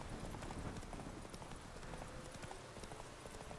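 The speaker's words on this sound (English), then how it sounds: "Get off the fucking horse, man." Horse hooves clip-clop steadily on hard ground in The Witcher 3, a continuous rapid rhythm of hoofbeats heard close and alone, without talk.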